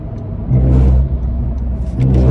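A 2017 Honda Civic EX-T with a failing transmission drives along, heard from inside as a loud, droning engine hum that swells and eases with the throttle.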